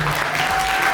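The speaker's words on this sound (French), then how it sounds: "faire son entrée sous votre acclamation" A brief, loud burst of dense applause as a guest enters the hall at a book signing conference in Yaoundé, steady and close.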